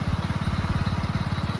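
A motorcycle is ridden on a dark, risky road, its engine throbbing in a fast, steady pulse close by, loud and continuous with no voices.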